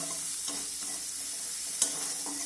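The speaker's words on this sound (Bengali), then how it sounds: "এখন কেটে রাখা পেঁয়াজটা দিয়ে দিলাম। পেঁয়াজটাকেও আমি একটু লাল করে ভেজে নেব।" Chopped onion fries in refined oil, a continuous close sizzle with a few stirring clicks and one sharp tap near the end.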